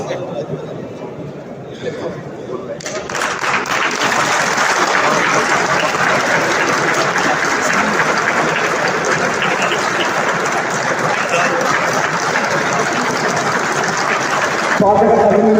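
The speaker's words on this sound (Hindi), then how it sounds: "पूरे मंच का स्वागत जोरदार तालियां बजाते" An audience at a municipal building inauguration ceremony in an indoor stadium breaks into loud, sustained applause welcoming the guests on stage, a dense clapping roar lasting several seconds with a voice speaking over a public address before and during it.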